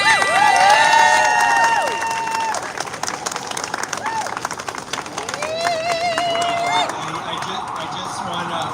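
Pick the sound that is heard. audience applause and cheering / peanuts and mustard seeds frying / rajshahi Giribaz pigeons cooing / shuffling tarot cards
audience applause and cheering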